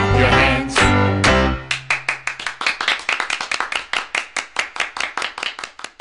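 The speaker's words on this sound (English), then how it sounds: "If you're happy and you know it, clap your hands." Rhythmic hand claps keep time in a children's nursery rhyme song, sharp and close, first under a sung phrase, then as a steady run of about twenty evenly spaced claps.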